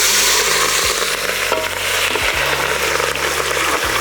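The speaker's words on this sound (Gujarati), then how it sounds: "મરચાથી વઘાર કર્યો" Chilies hit hot oil for a tempering for a vegetable-heavy khichdi and give a loud, close, steady sizzle and crackle. The stirring comes in sharp bursts and pauses, and nobody speaks.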